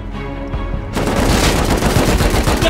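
AK rifle fire in the survival game Rust: after a brief lull, a dense burst of rapid automatic shots erupts and continues without pause to the end, loud and close.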